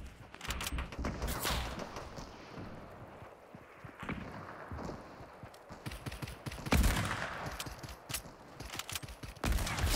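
Rapid sniper and automatic gunfire in a Fortnite match, bursts of shots cracking near and far in uneven clusters across the scene, with loud sharp volleys standing out over a busy game soundscape.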